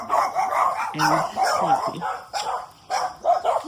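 Several dogs in a home with about seven dogs bark and yip in short bursts, fairly near, mixed with a woman's speech.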